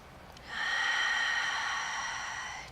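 A single slow, easy inhale through the nose during a relaxed Pilates mat exercise, a soft airy breath lasting about two seconds, close and quiet with no talk.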